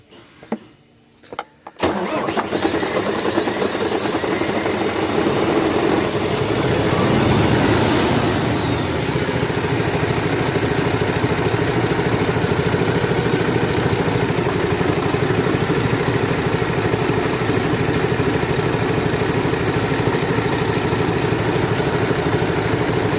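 A MAN TGA truck engine with a low-pressure fuel starting problem cranks with a few short bursts, then catches and settles into a loud, steady diesel idle that runs on uninterrupted.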